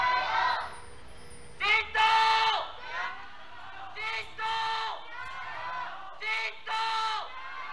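An esports arena crowd at an LPL Summer Split match between Topsports Gaming and JD Gaming cheers and yells in repeated bursts, loud swells rising and falling over several seconds.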